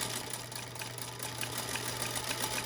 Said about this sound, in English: And then I'm going to stitch along here.